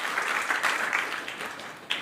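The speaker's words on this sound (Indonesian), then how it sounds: "Beri tepuk tangan yang meriah buat Tuhan." A church congregation applauds together, a dense, continuous wash of many hands clapping at steady loudness throughout, with a faint voice near the end.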